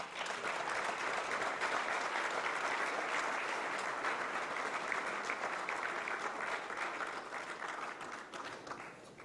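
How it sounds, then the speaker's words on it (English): A large audience at the FIBA Hall of Fame induction ceremony applauds Margot's family accepting her award, a dense, even wash of clapping that holds steady and gradually fades near the end. "Please give them a round of applause."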